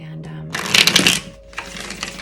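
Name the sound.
shuffling a deck of tarot cards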